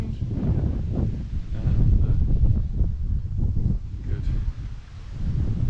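Strong wind buffets the microphone outdoors near a hotel garden in Palmanova, Mallorca, a continuous low roar with gusts, and a brief voice speaks over it.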